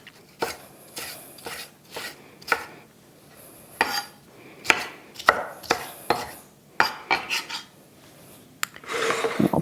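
A knife chops through tomatoes on a cutting board in a home kitchen, a series of sharp, uneven knocks close by with short pauses between cuts and a busier scraping burst at the end.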